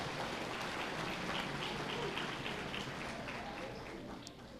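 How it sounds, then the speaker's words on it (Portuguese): A church congregation claps together in a dense, steady wash of applause that holds for several seconds before easing slightly at the end, heard at a distance and fairly faint. "Vamos aplaudir o Senhor."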